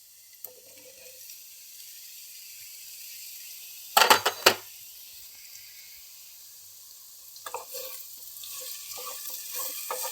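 Ridge gourd pieces hit a pan of fried onions for a milk curry, giving a sharp burst of sizzling and clatter midway, with quieter frying and stirring before and after.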